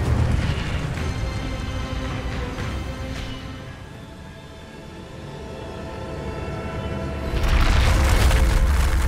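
An Incendio fire spell in Hogwarts Legacy roars with a loud, rushing whoosh of flame that swells, eases off, then surges again with a heavy low rumble, and no voices are heard.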